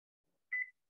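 One short electronic beep from a kitchen timer sounds once, clear but fairly quiet, in an otherwise silent kitchen.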